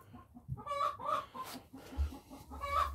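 A broody hen clucks repeatedly in low, rhythmic grumbling notes, with other fowl murmuring nearby; fairly quiet and close.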